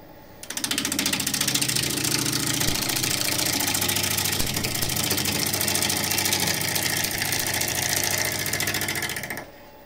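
A wood lathe spins a hard piece of elm at 880 RPM, giving a steady, close mechanical whir with a rhythmic hum that starts abruptly and runs evenly before stopping.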